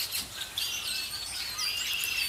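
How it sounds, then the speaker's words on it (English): Red-winged blackbirds call repeatedly outdoors on a cool fall day in Michigan, with thin, bright chirps and trills layered over a soft steady background. "These are red-winged blackbirds you can hear over here."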